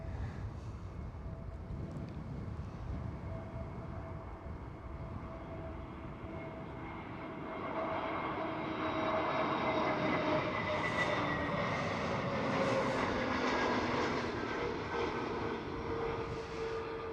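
A KLM Airbus A321neo at Amsterdam Schiphol airport, its jet engines a broad steady roar with whining tones that swells louder midway and stays strong, mixed with some wind rumble.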